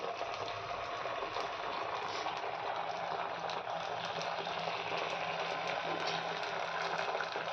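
Ground batter sizzling as it hits hot oil in a pan, a steady, dense crackling hiss that stays loud and even throughout with no talking.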